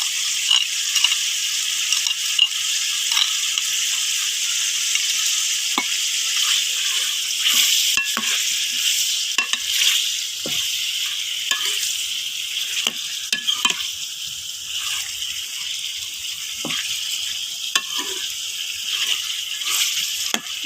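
Ginger and garlic paste frying in a pan for green chicken karahi, a steady close hiss of sizzling oil with scattered scrapes and taps of a stirring spoon throughout.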